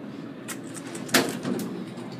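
An old Otis hydraulic elevator in a Chicago hotel starts its ride back down, with a steady low mechanical hum, a sharp clunk near the middle and a few softer knocks and rattles around it.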